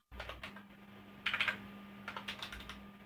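Rapid clicks of a computer keyboard being typed on while writing a Python program, close and steady with a brief louder flurry of keystrokes and a faint hum beneath.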